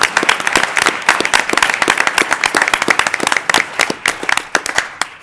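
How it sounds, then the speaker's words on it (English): Loud, dense applause from an audience at a school board meeting honoring a state champion volleyball team, a steady crackle of many hands clapping close and without talk. "we'll start off with a round of applause"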